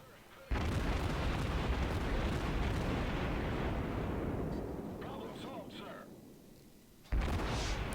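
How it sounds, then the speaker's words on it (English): Incoming shells slam into a warship in World of Warships: a sudden heavy boom opens a long, rumbling roar that slowly fades, then a second loud blast hits near the end, with a voice faintly under the rumble. "Here comes his incoming rounds to me. And then he probably hits me."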